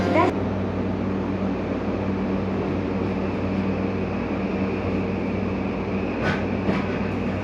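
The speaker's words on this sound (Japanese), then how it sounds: "接続を待っていたこちらの急行電車に乗車したいと思います" An express train waits at Hikifune station in Tokyo, giving off a steady low rumble and hum from the carriage throughout, with a few faint clicks near the end.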